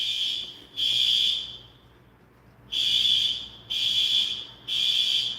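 A smoke alarm set off in a room by someone smoking sounds a loud, shrill electronic tone in repeated long pulses of about a second each, with one longer silent gap. No voices are heard.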